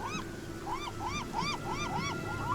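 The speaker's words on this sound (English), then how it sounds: "Oh, I forgot I hate seagulls." Seagull calls in the video game Beyond Eyes: a steady run of about six repeated squawking cries over a constant windy, surf-like background.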